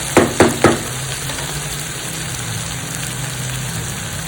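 Ingredients for dalia khichdi sautéing in a pan: three quick knocks of a spoon at the start, then a steady, loud, close hiss of sizzling that carries on alone.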